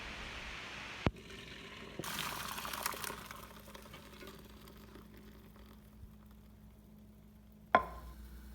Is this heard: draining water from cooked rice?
yes